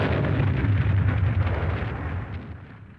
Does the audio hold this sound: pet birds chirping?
no